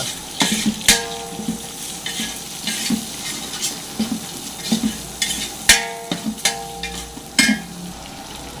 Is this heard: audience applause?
no